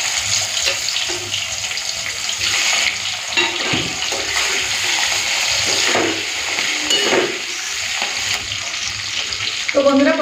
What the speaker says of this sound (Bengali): চলুন এরপরে এই মাছের লেজ আর মাথাগুলো ভেজে নেব